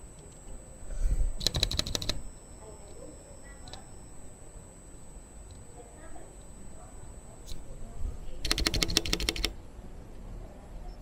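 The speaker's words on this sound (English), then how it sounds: "I put the respective keycaps onto the switches and tested for any rattling of the stabs." Keys with fitted keycaps on a DNA65 mechanical keyboard are tapped in two quick bursts of rapid clacking, checked for stabilizer rattle against a quiet room with a faint steady hum and a few isolated clicks between.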